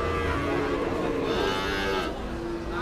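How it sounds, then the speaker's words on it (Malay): Cattle at an Indonesian cattle market moo in a long, loud, drawn-out call close by over steady crowd and market noise. "sapi-sapi super dari pedetan sampai jumbo, dari jantan maupun betina"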